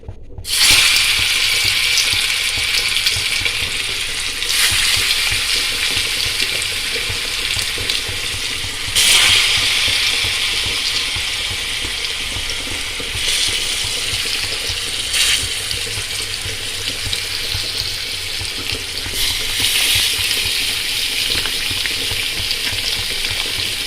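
Fish frying in hot coconut oil in a clay pot, a loud steady sizzle and crackle throughout with periodic louder bursts, with no voices.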